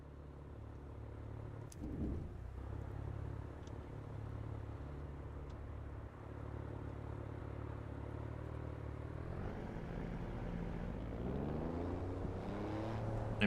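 Race car engine in the Assetto Corsa EVO sim, holding a steady low drone that starts to climb in pitch toward the end as the car accelerates, heard alone with no talk.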